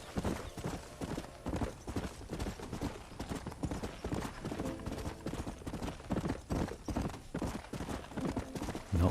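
Horse hooves clip-clop in Red Dead Redemption while the horse is ridden, a steady, rhythmic pounding that runs loud and unbroken throughout.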